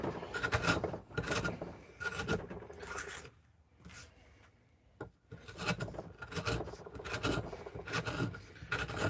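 A gouge carving a big willow bowl shaves the wood in repeated rasping, scraping strokes that come in bursts with a brief pause in the middle, close up and without speech.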